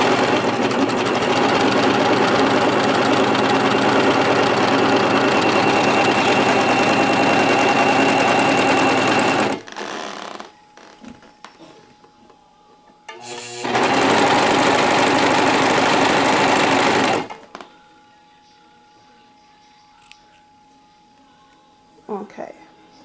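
A Singer Professional 5 serger runs a three-thread overlock on fabric, a loud steady rapid whirring hum for several seconds, stopping, then a second shorter burst before falling quiet.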